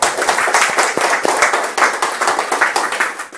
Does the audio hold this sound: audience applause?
yes